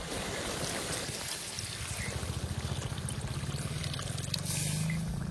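Water pours steadily into a pot, a continuous rushing splash whose low ringing tone slowly rises as the vessel fills.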